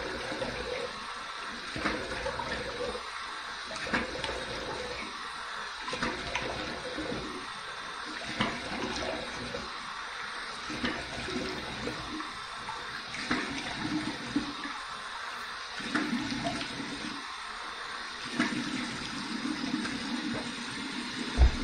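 Tap water runs steadily into a sink during a rinse after a shave, a continuous close splashing stream with faint shifting splashes as hands move through it.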